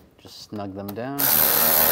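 Bolts being tightened on replacement horns of a 2011-2019 Ford Explorer, a steady, loud mechanical whir or ratchet drone taking over after a brief spoken moment and running to the end.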